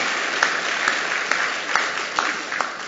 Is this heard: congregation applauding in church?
yes